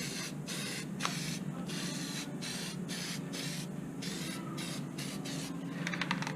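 Disc Brake Quiet aerosol sprayed onto rear brake pads of a Suzuki SX4, a close hissing spray in a series of short bursts, alone with no voices.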